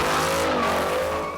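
A Mini John Cooper Works drives on the road, its engine note loud and steady with a sharp tire squeal partway through, and no talk.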